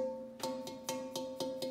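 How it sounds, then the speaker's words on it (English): Fired clay pots made with cactus juice added to the clay, tapped six times in a quick, even rhythm, giving a bright, bell-like ring with a sustained tone that hangs between strikes. "You can hear there's more like a bell,"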